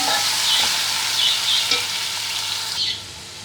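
Tomatoes fry and get stirred in a hot pan while fish biryani is being cooked, giving a steady close sizzle with scraping stir strokes throughout and no voices.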